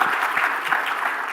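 A lecture audience breaks into a short burst of dense, even clapping that holds steady throughout, with no voices over it.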